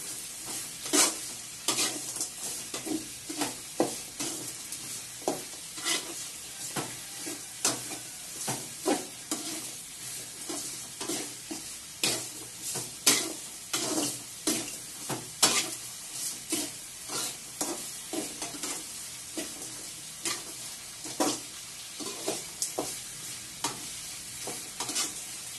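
Vegetarian upma seasoned with turmeric is stirred in a frying pan, with a steady run of quick scraping strokes over a soft, continuous sizzle, close and fairly quiet.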